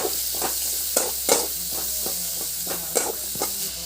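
Onion, ginger and crushed garlic fry in a pan under a loud, constant sizzle, with a spatula scraping and tapping the pan in an irregular rhythm.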